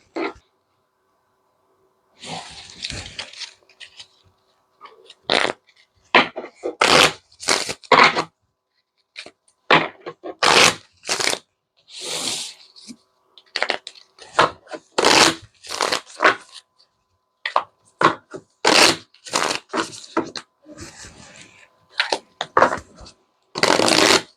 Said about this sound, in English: we'll go ahead and put it back in and shuffle